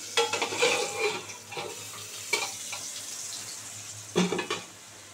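Potatoes fry in a pan, stirred with a metal utensil that scrapes and clatters in irregular bursts over a soft sizzle, close by, fading toward the end, with no talking.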